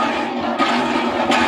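Water gushing from a hand pump in short splashing surges, loud and close, with two stronger bursts.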